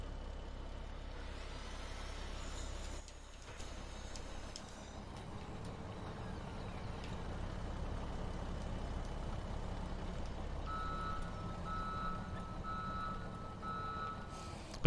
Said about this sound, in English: Man, that truck is loud.